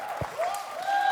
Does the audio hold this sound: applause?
yes